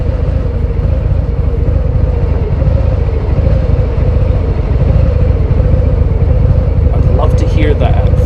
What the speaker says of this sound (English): listen to the engine now that we're going slow